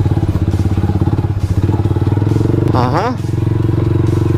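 A Rusi Sigma 250 motorcycle rides off-road with a loud, close, pulsing engine thrum and a rising rev, while a rider's voice briefly speaks over it.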